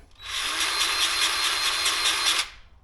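A Bauer 20V cordless grease gun runs in one burst of about two seconds, a close, high motor whine with a rapid pulsing rattle that starts and stops sharply.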